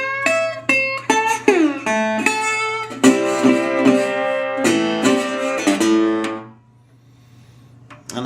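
Acoustic guitar plays a delta blues lick: slides, plucked single notes and strummed chords over a low drone, close and clear, fading to near silence before a final note.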